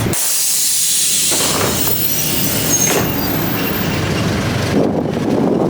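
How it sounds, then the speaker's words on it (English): City bus doors in Argentina open with a loud, deafening pneumatic hiss, a sharp blast at the start followed by sustained broadband hissing with a second surge near the end, with no talking. "This guy opens the bus, like the doors super early, and it's also the most deafening thing like I've ever heard in my life"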